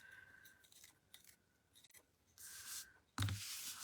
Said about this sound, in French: Vous pouvez aussi découper les coquillages et les coller directement sur votre carte blanche.